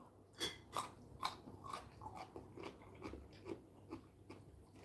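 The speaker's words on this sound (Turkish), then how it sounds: "turşu dediğin gıtır olacak" Crunchy pickle being chewed close to the mic, a steady series of crisp bites and crunches in an even rhythm with no talking.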